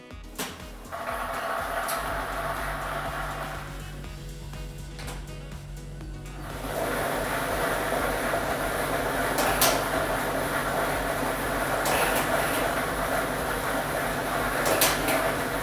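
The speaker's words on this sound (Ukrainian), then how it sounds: "І ми вмикаємо лототрон." An electric lottery drawing machine (lototron, set B with ball set 3) starts up for a Loto Maksyma draw, a steady mechanical whir that grows louder and fuller after several seconds, with faint rattling of balls, no talk.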